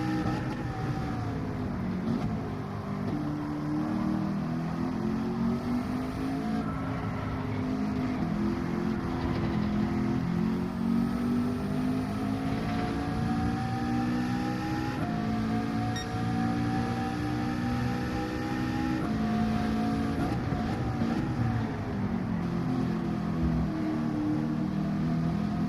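Race cars in Gran Turismo 7, a Manufacturers Cup exhibition race at Grand Valley, drone continuously with engine pitch rising and falling through gear changes.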